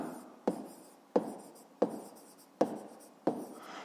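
A pen writes out a fifth-grade math solution on paper, five quick close scratching strokes, each starting with a sharp tap and trailing off, spaced evenly and quiet.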